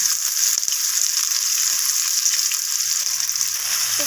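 Chopped onions fry in hot oil with bay leaf and whole spices in a pan, a steady close hissing sizzle with occasional light stirring clicks and no talking.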